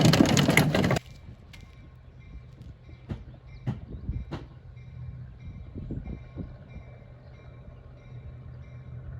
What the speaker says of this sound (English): So the train is rolling in, as you guys can see.